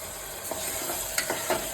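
Ground spices such as coriander powder, turmeric and kasuri methi fry in a pan for egg biryani, giving a steady soft sizzle with a few brief stirring scrapes, close by and with no voices.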